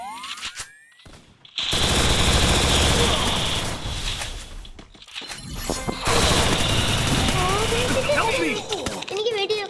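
Rapid automatic gunfire in a video game, loud bursts of sustained shooting with a pause between them, while a player talks over the action.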